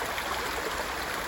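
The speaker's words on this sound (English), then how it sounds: "The water that flows down through there." Water from a stream flowing down through a channel, a steady close rushing and trickling wash that fills the whole moment without pause.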